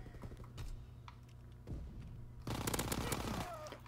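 Thompson submachine gun firing in a World War II video game, a short burst of rapid shots, then a longer sustained loud burst of automatic fire, heard close and without voices.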